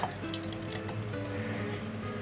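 Cooled pumpkin soup is poured into a container, making soft, quiet dripping and sloshing liquid sounds over a couple of seconds.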